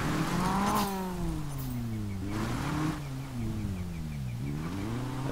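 A car engine in Need for Speed Payback revs and strains while stuck in desert sand, its pitch rising and falling in wavering surges, moderately loud and continuous with no speech.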